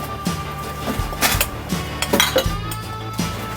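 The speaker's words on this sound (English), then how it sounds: "So I'm just gonna mix it around with the spoon." Spoon mixing dry seasoning ingredients for a whole baked fish in a bowl, a close series of clinks and scrapes of metal against the dish in an uneven rhythm.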